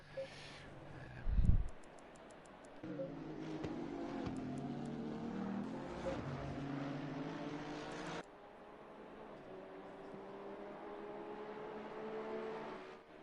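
GT3 race cars in a racing video game at the Nürburgring, engines droning steadily with shifting pitch as cars pass, a brief loud burst early on, then sustained engine tones continuing alone.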